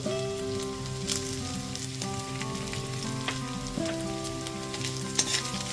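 Chopped green chilli, ginger and garlic frying in a pan on a low flame, with a soft continuous sizzle broken by spoon or spatula clinks and stirring scrapes, and no talking.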